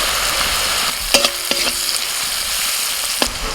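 Chopped onion with salt and turmeric frying in hot oil, a loud, close, steady sizzle broken by a few clattering stirs and scrapes of a spoon against the pan, with no one speaking.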